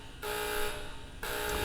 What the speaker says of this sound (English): An alarm starts to blare from the entire thing.